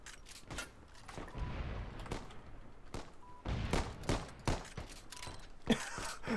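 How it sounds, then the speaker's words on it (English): Gunfire in the Pandemic Express zombie escape video game: a series of sharp, loud shots and bursts in irregular clusters, some close together, over low rumbling background noise. "Yeah, they're shooting at me."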